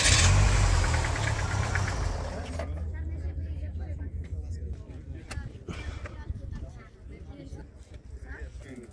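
At a classic and vintage vehicle rally, old motorbike engines rumble loudly at first, then fade to a lower, uneven running murmur while people talk nearby.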